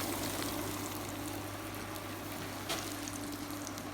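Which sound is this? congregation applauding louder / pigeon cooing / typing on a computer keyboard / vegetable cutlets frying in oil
vegetable cutlets frying in oil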